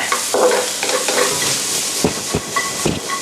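Loud, steady sizzling of onions being stir-fried over medium heat in a large pan for gumbo, with scraping and stirring clatter punctuating the hiss.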